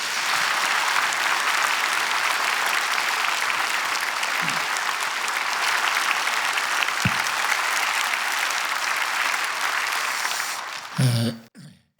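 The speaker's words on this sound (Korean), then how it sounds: "우리 박수로 모시겠습니다." A crowd claps steadily and loudly for several seconds, the applause holding even before tapering off abruptly at the end with a brief rustle.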